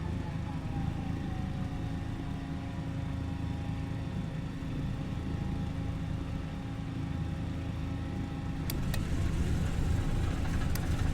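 The twin radial engines of a DC-3 run in Microsoft Flight Simulator, a steady low droning hum with a faint whir that rises slightly in the last few seconds, accompanied by a couple of brief clicks.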